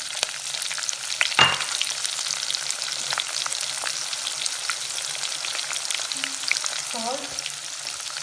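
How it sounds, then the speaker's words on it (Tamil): Onions sauté in hot oil with a dense, continuous close sizzle and a few stirring scrapes; a voice says a single word near the end. "ஸோ இது அவ்வளோ கொஞ்ச நேரம் ஒரு 2 to 3 மினிட்ஸ் நல்லா வதங்கணும் ஆயிலில்."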